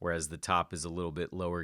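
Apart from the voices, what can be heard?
No distinct noise like a dog, phone or traffic.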